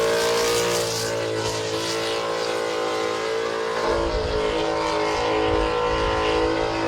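An open-class burnout car holds its engine pegged at high RPM on a smoky burnout pad, a loud, steady, harmonic scream that wavers slightly without pause, heard up close with no talking.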